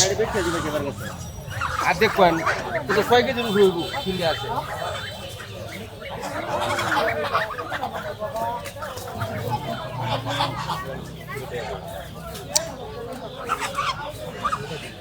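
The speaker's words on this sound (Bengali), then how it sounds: "দেখতে পাচ্ছেন এখানে অসংখ্য মুরগি বিক্রি হয়, হাঁস বিক্রি হয়, বড় বড় হাঁস" Chickens cluck and squawk among ducks for sale at the old traditional Mawna village market in Gazipur, Bangladesh, a busy close chorus of fowl calls mixed with people talking nearby.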